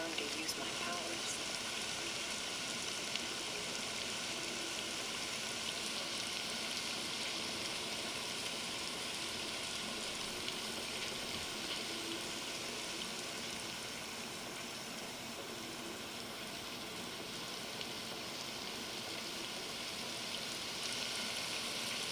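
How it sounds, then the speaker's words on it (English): Steady, even rain falls throughout a video game cutscene, a soft continuous hiss with no breaks, fairly quiet, and faint talk sits beneath it. "Sure is a rainy day."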